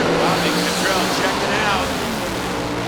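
A clutch drag race car launches off the line at a green light start at the March Meet, a loud sustained engine roar under an announcer's voice and crowd noise.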